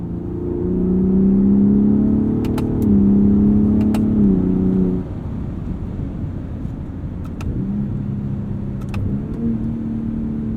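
A 2021 Ford F-150 Raptor with the 37 Performance Package, in manual mode on its 10-speed transmission, drones loudly under acceleration, then its engine pitch drops as quick throttle blips mark the downshifts, close and steady with no talk.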